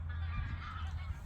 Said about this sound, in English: Ooh, some Canadian geese coming in.